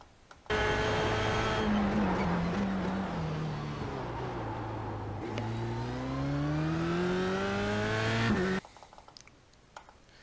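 A Formula 3 car at Circuit Gilles Villeneuve holds a loud, close engine note that drops steadily in pitch as it slows under braking, then revs back up before cutting off abruptly.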